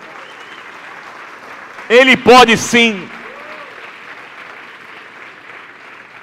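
Congregation at an evening church gathering applauds softly and continuously in the background, while a loud voice speaks briefly over the clapping near the middle.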